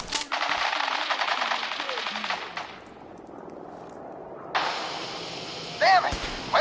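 Fallout 4 gunfire: a long, loud burst of rapid automatic fire, a lull, then another sustained volley, with voices and game effects mixed in.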